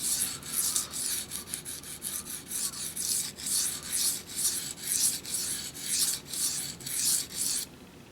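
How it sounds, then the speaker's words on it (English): A kitchen knife is sharpened with alternating strokes on a hard stone from a Smiths two-stone kit: about a dozen steady, rhythmic rasping scrapes, close and clear, with a low background hum. "Generally, I like to do alternating strokes on harder stones like these."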